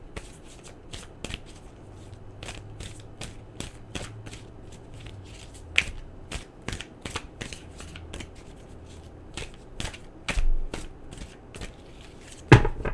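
Tarot cards being shuffled, a steady run of crisp riffling flicks and slaps close by, repeating roughly every half second against a quiet background with a faint low hum.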